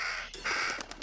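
A crow caws in the horror video game Little Hope, two or three close, harsh calls in quick succession standing alone without speech.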